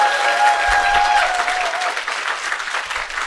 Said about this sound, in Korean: 여러분 자신을 위해서 큰 박수 한번 치고 시작해볼게요.